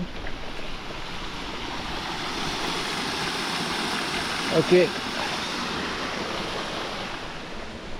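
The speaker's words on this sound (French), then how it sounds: "je vais arrêter ici là pour montrer la petite cascade" A small waterfall beside a mountain bike trail in Oiartzun gives a steady, moderately distant rush of water throughout, with some wind noise and a brief word from a man near the end.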